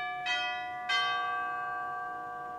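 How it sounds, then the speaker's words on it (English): Chimes stop on the great division of a residence pipe organ sounds two bell-like strikes about half a second apart, each ringing on with a long sustained decay. "And of course, the great has the inevitable set of chimes."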